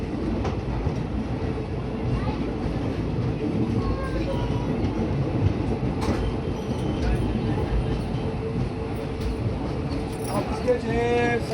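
A crowded passenger train runs with a steady, loud rumble and rattle of wheels and carriages, heard from inside with constant background noise and indistinct voices.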